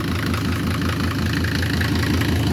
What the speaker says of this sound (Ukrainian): Мотор хороший, робить рівненько, не димить.